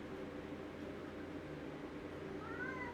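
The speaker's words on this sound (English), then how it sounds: "I hear my cat." A domestic cat meows faintly once or twice near the end, with rising, wavering cries over a steady indoor hum.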